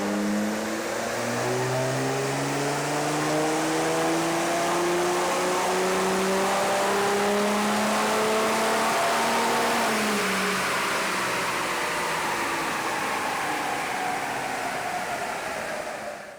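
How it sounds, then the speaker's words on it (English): VW Touareg 3.0 TDI diesel on a dyno, a loud steady engine roar climbing in pitch through the run and then dropping as it eases off, close and continuous, with no talk. "as you've just seen, the Touareg has been run on the dyno"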